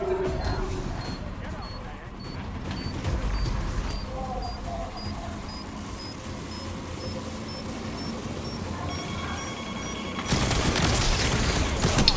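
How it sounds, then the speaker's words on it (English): A detonated charge explodes in a video game with a loud, broadband blast near the end, following a stretch of steady gunfire and battle noise. "Enemy detonated the charge."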